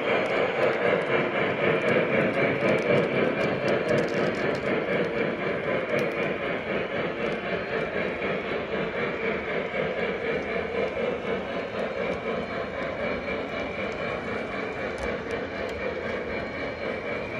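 A steady, continuous rumble and whir of a heavily loaded model train running along layout track, with faint rhythmic clicking throughout and no talking.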